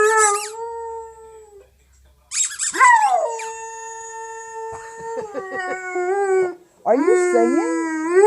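A dog howls and bays in long, wavering tonal calls broken by brief gaps and a squeak, loud and close, with a person briefly speaking in between.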